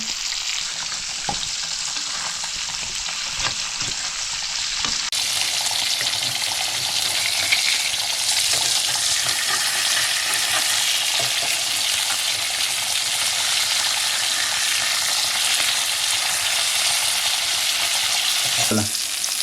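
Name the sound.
mackerel fish frying in oil in a pan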